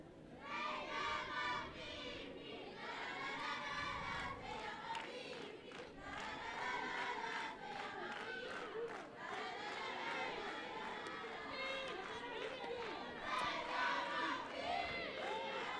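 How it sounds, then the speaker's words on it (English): A Mexican crowd at a women's rugby tournament chants and sings in unison, with loud massed voices rising and falling in rhythmic phrases, shouts and cheers mixed in, continuous and fairly near. "Just enjoying the musical interlude from the Mexican crowd."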